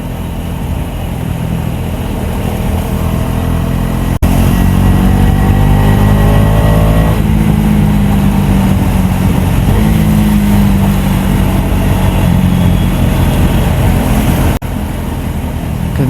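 A Husqvarna Vitpilen 250 motorcycle on a night ride roars loudly and continuously, its engine pitch climbing through several accelerations with wind noise, heard from the rider's position.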